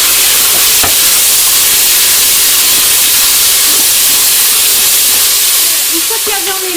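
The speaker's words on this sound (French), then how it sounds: "J'ajoute mon oignon et mon ail." Onion and garlic go into browned beef in a Cookeo electric pot, giving a loud, steady, close sizzling hiss throughout, with a few faint clicks and clinks.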